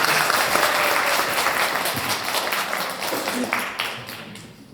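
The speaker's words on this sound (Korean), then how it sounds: "박수로 부탁드리겠습니다" An audience at an English academy ceremony applauds, a full, dense round of clapping that slowly tapers off toward the end, with faint voices underneath.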